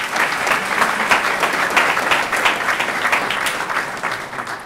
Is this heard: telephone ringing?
no